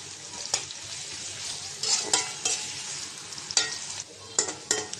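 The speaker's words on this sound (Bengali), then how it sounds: "পেঁয়াজটা একটু ভেজে নেব।" Chopped onion frying in oil in a hot wok (kadai), with a soft continuous sizzle broken by several distinct scraping stir strokes and light clatters of the spatula against the pan.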